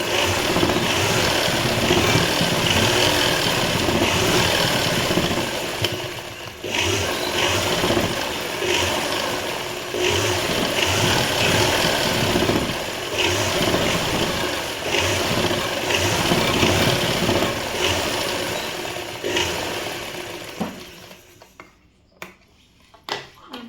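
A sewing machine stitches fabric for a neat overlock-style edge without an overlock machine, its motor running as a steady, busy mechanical whir with slight pauses before it stops near the end.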